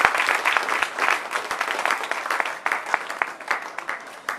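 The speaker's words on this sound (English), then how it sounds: "One more round of applause for Len." A crowd claps steadily in a dense, continuous round of applause that stays fairly loud throughout.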